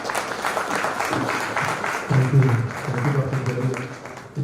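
Audience applauding a speaker at a medical continuing-education session on ischemic stroke, steady clapping throughout with voices talking over it near the end.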